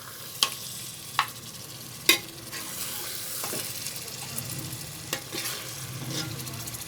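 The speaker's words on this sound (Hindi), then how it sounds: "और आखिरी चीज़ जो इसमें जाएगी वो जाएगी दही और अब हम इसे भी अच्छे से मिक्स कर लेंगे।" Yogurt is stirred into a sizzling biryani masala of chicken and spices, a continuous frying hiss under several sharp spoon clanks against the pot and scraping strokes, close and moderately loud.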